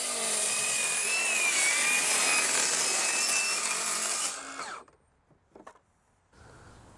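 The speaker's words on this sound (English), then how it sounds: "I'm just going to take a circular saw, cut it in the middle" Circular saw cutting through the middle of a cheap hollow core door, a loud close whining rip for about four seconds that cuts out abruptly, followed by a few faint knocks and quiet room noise.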